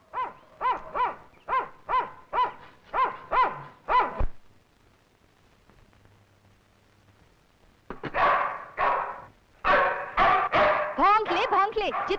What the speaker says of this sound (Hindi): भौंक ले, जितना जी चाहे भौंक ले।